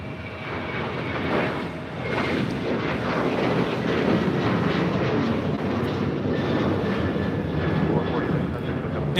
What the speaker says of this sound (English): Now taking off, this is Delta Airlines 449 taking off to Nashville, Tennessee on a 737-900ER